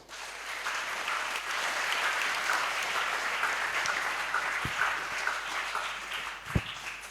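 A crowd at a talk show on santri politics applauds steadily, a fairly soft, even wash of clapping with a couple of sharper nearby claps near the end.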